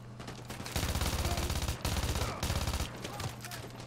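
Sustained automatic gunfire from a Vector submachine gun in the video game Call of Duty: Modern Warfare 2, two loud rapid bursts broken by a short pause, with game music and ambience beneath.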